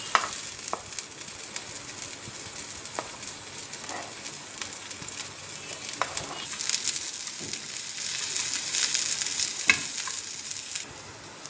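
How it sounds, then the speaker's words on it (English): Chopped broccoli sautés in a pan, a soft steady sizzle with occasional sharp spatula taps and scrapes, growing a little busier toward the end, with faint birdsong in the background. "Now we are sauteing the broccoli"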